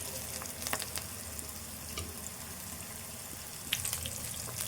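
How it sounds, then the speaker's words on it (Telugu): Green chillies frying in a pan for upma, a faint soft sizzle with a few brief scraping clicks of stirring, quiet and close without any talk. "ఇట్లా దోరగా కలర్ వచ్చేదాకా వేగాలి."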